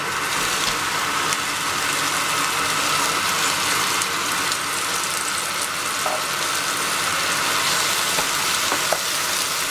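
Zucchini frying in a pot for a Turkish lentil and sour zucchini stew, a steady, dense sizzle with faint stirring clinks running evenly throughout, close and fairly loud with no talking.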